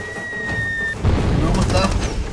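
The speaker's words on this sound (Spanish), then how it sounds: "¡Oh, mortero!" A mortar shell explodes in the Far Cry 2 shooter game, a deep booming blast with rumbling debris that follows a short tonal whine; an excited voice shouts over it.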